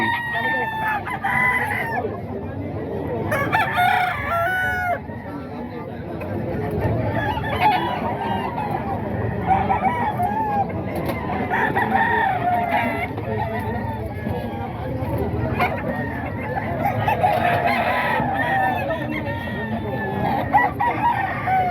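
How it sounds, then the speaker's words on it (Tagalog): Roosters at a gamefowl sale crow repeatedly amid a steady chorus of clucking fowl, close and loud, while people talk and call out prices throughout. "Manok ni Boss Hapon."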